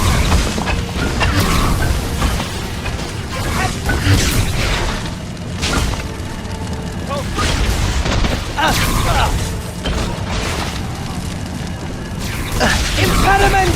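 A Confringo blasting spell going off in a Harry Potter and the Deathly Hallows video game: repeated booming blasts and bangs over dense combat noise, loud and busy throughout, with a voice shouting spell names amid the action.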